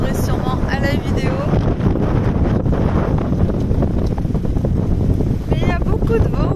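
Strong, steady wind roars and buffets the microphone at a mountain riverside spot in Greece, with sand blowing about and brief voices under the constant gusting.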